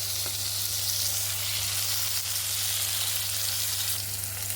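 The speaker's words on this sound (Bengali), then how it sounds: "নুন আর একটু হলুদ দিচ্ছি, দিয়ে বেগুনটা ভেজে নেব।" Eggplant fries in oil with salt and turmeric, giving a steady close sizzle and hiss with a few faint stirring touches and no voices.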